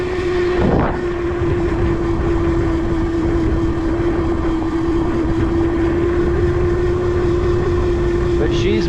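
An ETM RTR motorcycle on the move gives a loud, steady engine drone with a sustained high whining tone and rattly wind noise throughout, and a rider's voice briefly under it.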